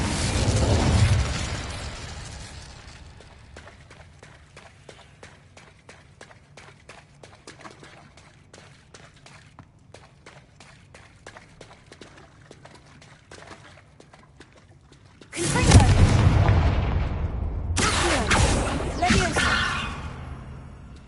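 In Hogwarts Legacy, the Incendio fire spell is cast with a loud whooshing burst of flame that fades into crackling. A second powerful roaring blast erupts near the end.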